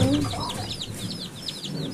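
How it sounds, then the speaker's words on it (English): Black sex-linked chicks and hens peep and cluck in a steady chorus of high, repeated chirps, close by, with some low background rumble. "So we have 8 black sex-linked chicks."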